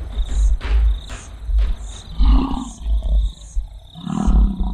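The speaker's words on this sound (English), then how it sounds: "The thundering sound of a lion defending its territory can be heard from 8 kilometers away." A lion roars in a series of deep, rumbling pulses on the open plain, loud and rhythmic, while insects chirp steadily in the background.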